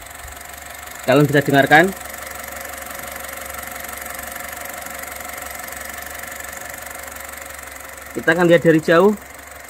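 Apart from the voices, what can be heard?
Honda Brio E 2020 1200 cc four-cylinder engine idling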